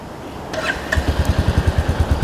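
A Royal Enfield Classic 350 motorcycle with a Lowell slip-on exhaust idles close by, settling into a steady, rhythmic low thumping from its exhaust after a brief faint rise at the start.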